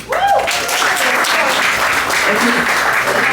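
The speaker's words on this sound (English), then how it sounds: "one more round of applause, because that was amazing" Sustained, dense applause from a crowd, loud and steady throughout, with a brief voice at the start.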